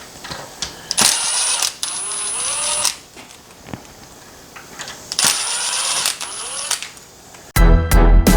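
A Phillips head screwdriver or screw gun removes a front door's deadbolt and handle. Clicks and rattling alternate with two short bursts of motor whir, and loud metallic clatter comes at the end.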